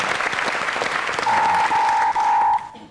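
Studio audience applause on a comedy panel show, a dense steady crowd clapping throughout, with a sustained buzzer tone sounding over it near the end before the clapping drops off.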